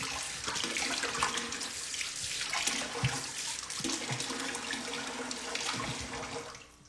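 Tap water runs steadily into a sink during a rinse, a continuous splashing rush close by with small shifts in flow and no talking.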